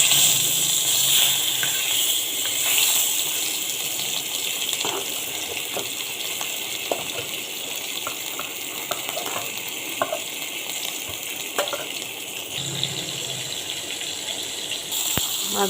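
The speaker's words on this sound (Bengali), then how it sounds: "তুমি কড়াইয়ে তেল দিয়ে নিয়েছি, এবার মাছটা দিয়ে ছেড়ে দেব।" Fish sizzling as it drops into hot oil in a wok, a steady, close, loud hiss that holds for the whole stretch with small crackling flecks.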